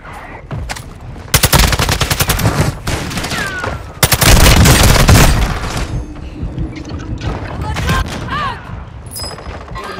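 Heavy mortar impacts and dense machine-gun fire in a shooter video game, booming blasts with rapid bursts of shots and debris, loud and close, with radio-style voices talking over parts of it.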